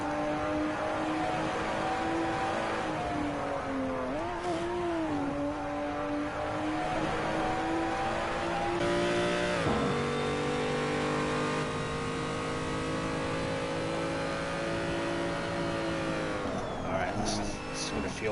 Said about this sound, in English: the car in the game, I think it's always loud